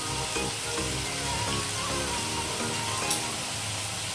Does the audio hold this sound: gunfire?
no